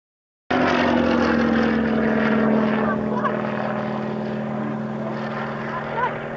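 An aircraft engine drones steadily at the 1992 RAF Coningsby airshow, a continuous loud hum with a strong low tone that stays constant and slightly fades toward the end.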